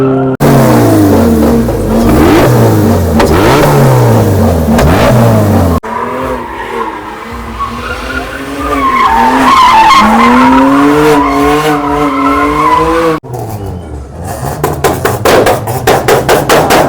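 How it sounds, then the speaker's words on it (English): Race cars drifting at a drag meet on an aviation airfield, loud close engine revving and tire squeal in sweeping bursts, with a harsh rapid rattling stretch near the end. "The tires are screeching, the tires are burning"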